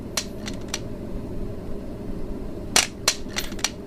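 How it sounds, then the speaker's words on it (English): Handgun and rifle shots in the VR shooting game Range Day, several sharp cracks spaced irregularly over a low steady hum, with a tight cluster of four or five reports near the end. "I'm shooting at the fucking roof"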